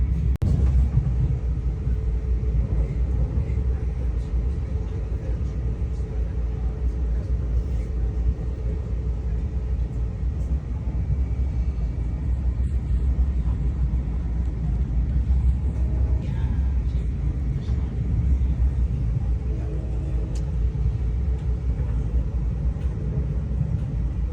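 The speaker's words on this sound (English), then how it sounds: "So here we are riding the train." Steady low rumble inside a moving Brightline passenger train on the Orlando to Miami run, a continuous deep drone with faint rattles and creaks throughout and no clear talking.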